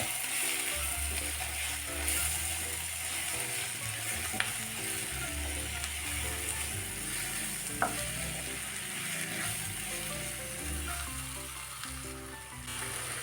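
Okra and egg fry with chilli powder, salt and tomato is stirred in a hot pan, a continuous loud sizzle with repeated scraping and clinking strokes of the spoon, close up and without talk.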